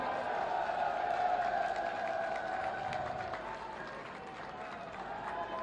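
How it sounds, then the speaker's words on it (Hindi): A large rally crowd welcomes the Chief Minister with a steady roar of clapping and cheering, broad and continuous, with a droning hum running underneath. "जोरदार तालियों के साथ में।"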